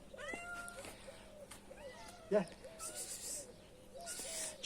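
A blind cat meows repeatedly in short calls, close by and moderately loud, with a person speaking at times in the background.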